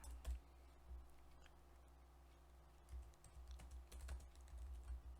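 A computer keyboard is tapped in short quiet bursts as a cd command is typed in to reach the XAMPP MySQL bin folder, with soft clustered keystrokes and pauses between them.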